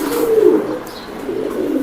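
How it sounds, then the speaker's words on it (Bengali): A racing pigeon in a loft coos close by: a low, throaty rolling coo that swells and fades, then returns more softly, with no talk. "মার্শাল্লাহ খুব চমৎকার কবুতর"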